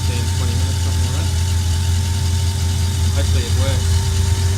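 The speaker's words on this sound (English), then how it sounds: "I've got to let the car idle for 15-20 minutes" A car engine idling steadily for a long warm-up, a loud, even, low hum with a constant drone and faint mechanical vibration throughout.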